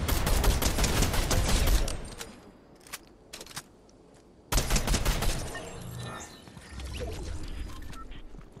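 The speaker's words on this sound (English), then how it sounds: "Someone's just shot at us." Rapid, loud Fortnite gunfire rattles in a dense volley, followed by a lull with a few isolated shots and another burst of firing. Game ambience continues underneath.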